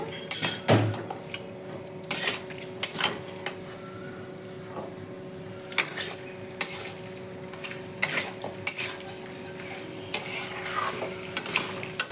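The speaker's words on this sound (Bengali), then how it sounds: "গোলমরিচ বাটা এখন সুন্দর করে কষিয়ে নেব" Mutton curry stir-frying in a pan with black pepper paste and garlic paste, cooked Bihari style: a steady sizzle runs throughout, broken by repeated scraping strokes of a spatula and occasional clinks against the metal, close and fairly loud with no talk.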